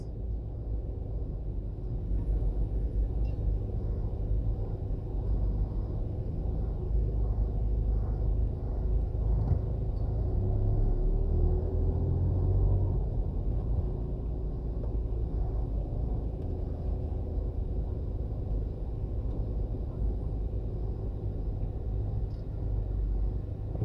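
A car drives along Constant Spring Road in Jamaica, its low engine and road rumble steady from inside the cabin, with passing traffic swelling faintly. No one talks.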